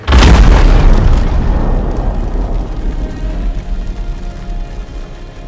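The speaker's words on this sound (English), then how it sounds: "that explosion didn't leave any survivors" A massive explosion in the pirate video game Sea of Thieves erupts with a sudden deep boom, then a long rumbling roar of debris that slowly fades over several seconds.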